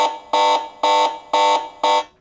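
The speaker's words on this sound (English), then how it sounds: "Alarm." Alarm from an 8849 Tank 5 rugged phone, loud and close: four identical electronic beeps in a steady, evenly spaced rhythm, each a bright buzzing tone about a quarter second long.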